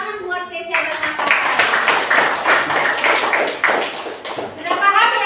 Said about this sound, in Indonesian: Tepuk tangan buat Tesya dan Nathan.